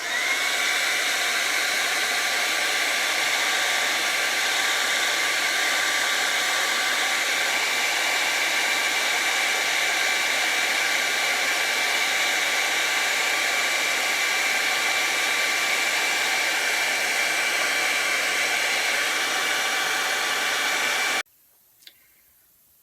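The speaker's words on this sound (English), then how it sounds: "A simple hair dryer will help dry it out." A hair dryer blows steadily on a vinyl car seat to dry a repair coating, a loud continuous whirring hum that runs unbroken for over twenty seconds before switching off abruptly, followed by a faint click.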